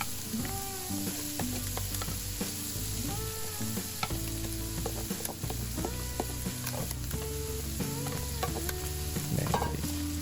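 Rice mixed with abalone innards stir-frying in a hot pan for abalone porridge, a loud continuous sizzle with repeated scraping and clinking of a utensil stirring against the pan.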